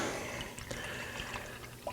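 Homebrew rice wine pouring and draining into a vessel, a steady close liquid wash with faint drips over two seconds, no speech.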